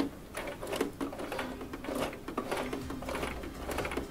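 A home sewing machine starts a seam, humming and ticking steadily and close by, with no voices.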